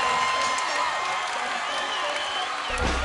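Arena crowd at a caged MMA event cheers after a rear naked choke submission win, a sustained wash of shouts and whoops under a commentator's voice.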